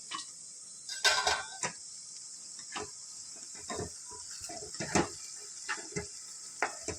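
Onions cooking in a pan over a low gas flame for a mixed vegetable Punjabi sabji, a soft steady sizzle beneath scattered light clinks and scrapes of a utensil against the pan.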